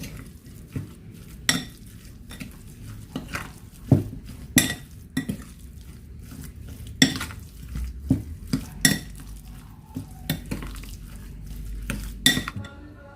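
Homemade longganisa meat mixture with brown sugar being mixed in a bowl, with repeated sharp clinks and knocks of a utensil against the dish at an irregular rhythm, close and fairly loud over a quiet background.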